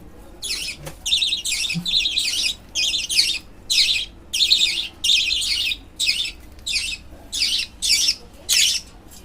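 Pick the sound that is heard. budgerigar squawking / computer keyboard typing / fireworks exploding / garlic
budgerigar squawking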